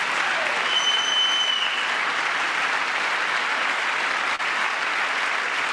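Sustained applause from an audience in the chamber of Congress during a presidential address to a joint session, a steady dense clapping wash that holds evenly throughout with no voices standing out.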